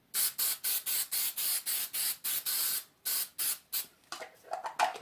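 3M Super 77 spray adhesive applied to XPS foam in a rapid series of about a dozen short hissing bursts, close and fairly loud, ending in a few weaker, sputtering sprays.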